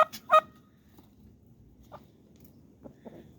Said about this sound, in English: That's a chicken in there.